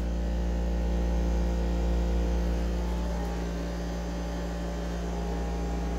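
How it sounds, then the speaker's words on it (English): Steady broadband fan roar at full speed layered over a loud, droning dehumidifier with strong low mains-like hum, continuous and close with no talking. "That fan's running at full speed. That humidifier's still loud."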